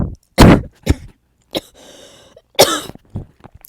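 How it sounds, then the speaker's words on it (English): Several harsh coughs in separate bursts, close and fairly loud, with a throat-clearing rasp and short pauses between them. "Sorry, I have a bad cough."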